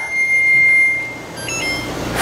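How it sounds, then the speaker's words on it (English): A kitchen timer's alarm rings with a steady high electronic tone through a busy home kitchen during a canning day, loud and close, with a brief louder burst at the end. "And there's our timer"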